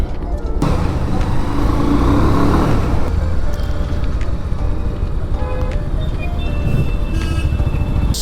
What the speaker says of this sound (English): who the fuck is revving their bike hard?